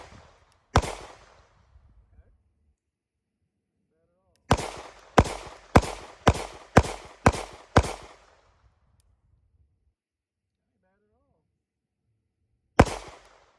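Sig X-Macro compact pistol fired at a target: one sharp crack, then a rapid string of seven shots, and a final single shot after a long silence, loud and close.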